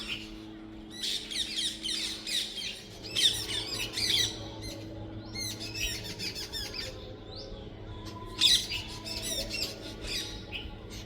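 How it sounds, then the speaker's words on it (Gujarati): Parrots squawking repeatedly in harsh, shrill calls at moderate distance, several birds overlapping in irregular bursts against a low outdoor hum. "આ બાજુ તો બહુ બધા પોપટ આવ્યા હતા"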